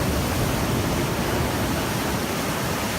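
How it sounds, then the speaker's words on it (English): Ocean waves smash against a beach where concrete blocks and poles stand, producing a constant loud, broadband roar of surf with no distinct breaks between waves and no voices. "Ocean is just smashing in."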